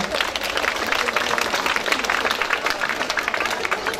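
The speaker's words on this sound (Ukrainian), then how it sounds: "Давайте підтримаємо дівчинку оплесками." An audience at an outdoor city day festival claps steadily in a sustained round of applause for a girl reciting poetry, dense and even throughout.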